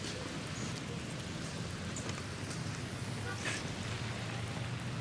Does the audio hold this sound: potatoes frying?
no